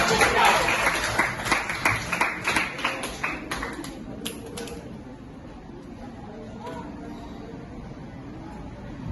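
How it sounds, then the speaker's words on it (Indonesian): Students clapping their hands together in a classroom, a fast burst of many claps that is loud at first, then thins to scattered claps and fades into quiet room noise. "Kasih tepuk tangan untuk kalian semua."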